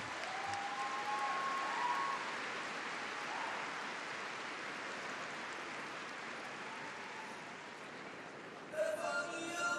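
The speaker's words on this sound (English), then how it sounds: "fabulous to see the crowd showing their appreciation" A large arena audience applauds steadily at the European figure skating championships' ice dance event in Kaunas, a dense wash of clapping that holds throughout and swells near the end.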